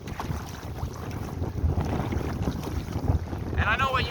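Gusty wind buffets the microphone around a canoe on open water, with a constant low rumble and the lap of waves against the hull, and a faint bird call near the end.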